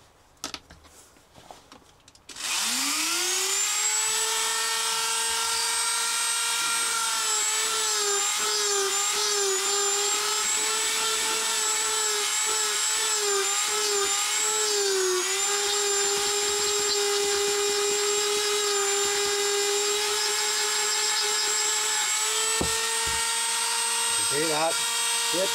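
A Dremel flex shaft rotary tool fitted with a burr carves wood: after a brief pause it spins up into a loud, sustained high whine whose pitch dips and wavers as the burr bites into the wood.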